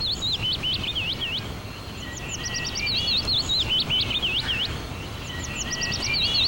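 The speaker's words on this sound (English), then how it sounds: "Why do I hear birds all of a sudden?" Several birds chirping outdoors, with repeated bright, quick tweets in bursts over a steady low background noise, fairly close and clear throughout.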